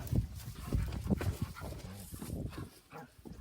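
A dog makes low grumbling, snuffling noises at close range, a rough continuous rumble with irregular pulses and no speech.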